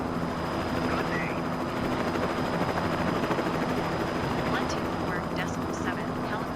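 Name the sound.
helicopter flying over Key West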